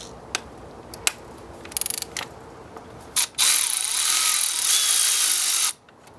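Ratchet working a bolt on a 2000 Kawasaki ZX6R carburetor: scattered clicks and a quick burst of pawl ticks, then a sustained close, loud ratcheting run of a few seconds before stopping.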